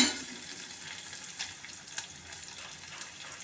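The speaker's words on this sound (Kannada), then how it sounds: "ಇದು ಗೋಲ್ಡನ್ ಬ್ರೌನ್ ಬರೋ ತನಕ ಫ್ರೈ ಮಾಡ್ಕೋಬೇಕು" Something frying in a pan until golden brown for a jackfruit sambar, a steady soft sizzle with a few faint scraping clicks, heard alone without talk.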